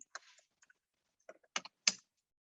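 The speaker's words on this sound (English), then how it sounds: "which I will type into the chat." Quiet keystrokes on a computer keyboard, a few sparse clicks followed by a short burst of firmer taps, close and isolated against silence.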